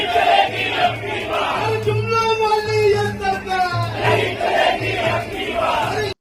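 Large crowd at an old pension scheme protest chanting slogans in unison, a loud rhythmic call of many voices repeating in bursts over a dense crowd roar.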